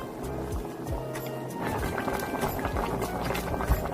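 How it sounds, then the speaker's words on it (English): Korean spicy chicken stew (dakdoritang) simmers over high heat in a covered pot, giving a steady bubbling and gurgling with scattered soft pops and drips at a moderate, even level. "Cover the lid and simmer over high heat for about 30 minutes."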